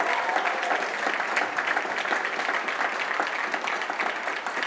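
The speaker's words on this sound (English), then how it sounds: "let's give a loudest round of applause for all of the sponsors here today" An audience at an advertising event gives a sustained round of applause for the sponsors, a dense steady clatter of many hands with faint voices mixed in.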